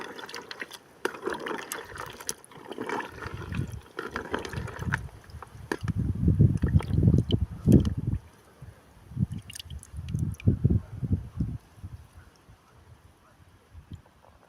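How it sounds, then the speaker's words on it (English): Cactus pears stirred in a container with big wide tongs to strip off their prickles, giving a rolling, rattling clatter with wet squishy scrapes in uneven bursts, close and fairly loud, with no talking. "I give them a good stir for about a minute or two."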